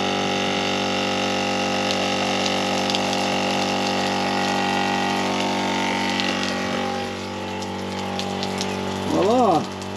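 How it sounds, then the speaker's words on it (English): A small water pump runs steadily to draw water for an outdoor off-grid shower, giving a constant droning hum that eases off near the end, where a brief wavering sound comes in. "So we're going to turn our pump on."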